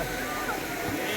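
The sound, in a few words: river flowing near a hillside shrine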